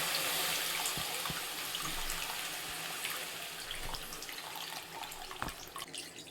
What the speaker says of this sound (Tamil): இப்போ நம்ம புளி கரைச்சி ஊற்றிக்கிடலாம்.